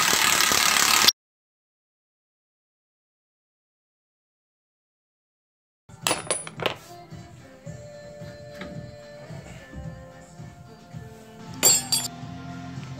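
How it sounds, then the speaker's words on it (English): Metal wrench and 24 mm socket clink against a Foxbody Mustang's steering parts, a few sharp clinks at the start and near the end with quieter workshop rattling between, after a stretch of silence. "this is going to be 24 millimeter socket, and I'm just using the adjustable wrench on the other side just to hold that thing in place"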